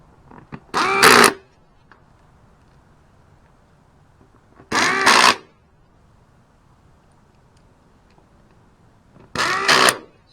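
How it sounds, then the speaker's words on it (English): A pneumatic air tool drives the screw on a scooter air filter cover. It gives three short, loud whirring bursts about four seconds apart, with near silence between them. "I have the air tool."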